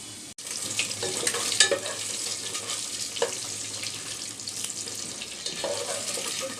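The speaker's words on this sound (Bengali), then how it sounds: "আলুগুলাকে আমি লাল লাল করে ভেজে নিলাম এটা এভাবে করে বেজে নিচ্ছি" Potatoes frying in a pan with a pinch of salt, a moderate crackling sizzle with wet, splashy texture and occasional scrapes and clicks of stirring throughout; nobody speaks.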